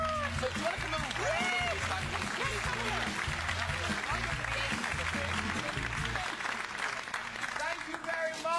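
A studio audience on a chat show applauding luggage, a broad steady wash of clapping that holds for most of the clip, with background music thumping underneath and fading near the end.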